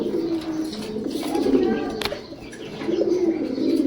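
A pair of pigeons, a male Kaldom and a female Silver Dom, coo in low, rolling calls close by, with a faint chirp and a voice in the background.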